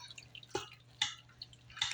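Water drips from grated cauliflower squeezed in a clean dish towel, with several distinct close splashes falling at irregular intervals over a low steady hum.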